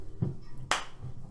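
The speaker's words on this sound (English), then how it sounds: "slow clap." A single sharp snap-like clap rings out at close range after a softer thump, isolated and brief, over a quiet room background.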